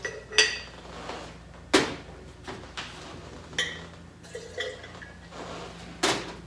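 Ingredients for homemade hand sanitizer mixed in a glass mason jar, with a series of sharp clinks and knocks of glass and utensil, spaced irregularly over a quiet background.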